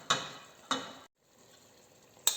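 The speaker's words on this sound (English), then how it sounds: "I'm just mashing it with a fork" Cooked taro for a chicken and taro stew is mashed with a fork, giving three sharp scraping taps spaced apart, each trailing off into a soft, close, quiet sizzle.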